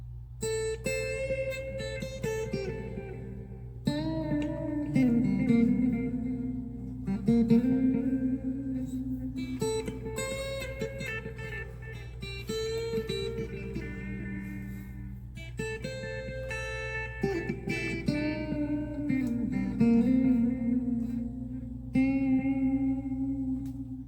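Electric guitar phrases played through a pedal board, drenched in echo, reverb and modulation effects, notes ringing and layering over a low sustained hum, played continuously without any voices.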